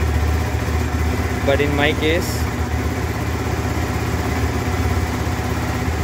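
A KTM Adventure 390 motorcycle engine idles steadily nearby, a constant low mechanical rumble running underneath someone talking, with a short electronic chirp partway through.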